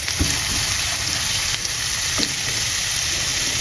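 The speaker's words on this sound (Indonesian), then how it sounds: "Kemudian kita tumis ini bawangnya sampai benar-benar harum." Shallots sautéing in leftover oil from frying tempeh in a home kitchen, giving a steady, close sizzle and crackle with a few brief stirring scrapes and no voices.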